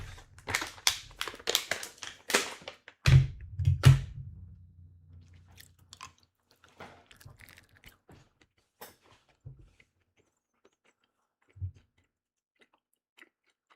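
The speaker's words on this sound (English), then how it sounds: "Try to keep the mic away from me while I chew this." Wet, crackly chewing of gum right up against the microphone, with a burst of rapid smacking and crunching at first, then sparser clicks and smacks thinning out into near silence.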